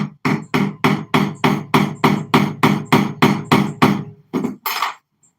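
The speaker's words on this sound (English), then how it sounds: "That's why we ram it in increments." Pyrotechnic silver fuel is packed with a wooden mallet in a run of about fifteen sharp, evenly spaced whacks, close and loud, slowing slightly at the end.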